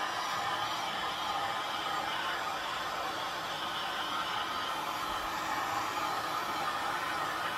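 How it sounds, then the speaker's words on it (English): A heat gun blowing over fresh resin in a flower and butterfly art piece, a steady close airy roar with no break for the whole span. "I'm just using the heat gun."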